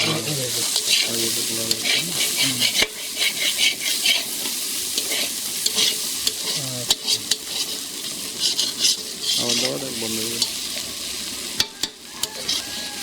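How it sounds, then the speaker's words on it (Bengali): Potatoes frying with green chilli, chopped onion, garlic and turmeric in a large pan for a communal cooking, loud continuous sizzle with frequent scraping stir strokes and clanks, close up and without talking. "দাদা এখন আলু ভাজছে আলুতে দিয়েছে কাঁচা লঙ্কা পেঁয়াজ কুচি রসুন আর এখন দিচ্ছে হলুদ দিয়ে সুন্দর করে আলুটাকে ভেজে নেবে"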